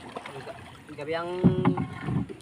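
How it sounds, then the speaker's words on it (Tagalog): A small fishing boat's engine starts at night on open water. A rising tone sweeps upward into a rough, rumbling idle, with someone talking over it and wind noise. "papandara tayo ng makina"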